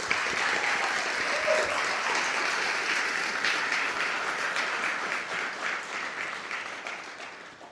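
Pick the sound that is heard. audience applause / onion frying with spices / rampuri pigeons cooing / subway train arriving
audience applause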